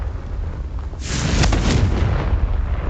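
A Confringo explosive spell blasts in Hogwarts Legacy, a sudden loud booming burst that swells and rumbles with a deep, dense roar before fading slightly, close and alone.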